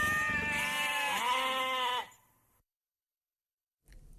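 A sheep gives one long, wavering bleat lasting about two seconds, loud and close, then cuts to near silence before a faint noise returns at the end.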